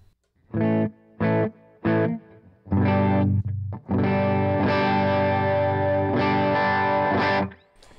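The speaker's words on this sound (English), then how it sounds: "maybe some kind of slightly distorted tone" An electric guitar played through a gig rig gives a slightly distorted tone, just beyond breakup: three short chord stabs, then longer sustained chords ringing out.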